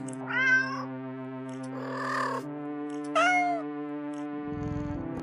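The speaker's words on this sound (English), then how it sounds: "The sound of happy cats munching away at their fish fills your ears." Cartoonish cat meows from a video game, two rising and falling cries over a steady hum of sustained electronic tones, with a soft rustling burst between them and a low rumble near the end.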